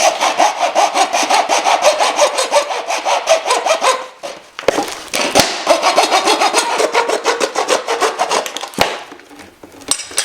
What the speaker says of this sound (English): I'm going to use my hacksaw for that